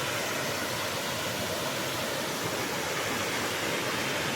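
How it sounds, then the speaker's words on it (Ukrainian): Water pours down a fountain in Caserta, Italy, a steady, even rushing hiss that fills the scene without pause or variation. "Високо тече вода."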